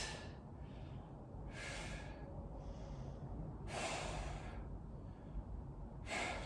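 Slow, deep breaths during a stretching exercise, several long airy inhales and exhales spaced a second or two apart, close and fairly quiet.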